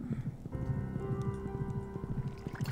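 Horse hooves clip-clopping in the video game Stardew Valley, a quick steady rhythm of soft knocking steps over a gentle background music bed, fairly quiet and close.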